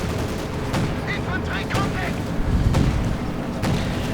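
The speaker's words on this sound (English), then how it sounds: "There we go, anti-tank grenade." An anti-tank grenade blast in a World War II real-time strategy battle, heard as a few sharp, booming explosive cracks among continuous distant gunfire and battle noise, with a commentator's voice running underneath.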